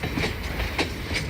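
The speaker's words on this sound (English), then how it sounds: "A winding train tour through the grassy riverbanks and eroded badlands of the Frenchman River Valley" A tourist train winds along a prairie railway through the grassy riverbanks and badlands of the Frenchman River Valley, its continuous rolling rumble broken by a few regular wheel clacks on the track joints, heard alone.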